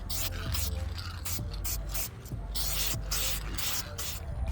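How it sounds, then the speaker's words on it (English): Spray paint in a stainless steel colour hisses onto a light bar for a Suzuki Carry kei truck, close-up bursts of airy spray pulsing in short repeated blasts over a steady low background. "we did a quick little spray paint on that"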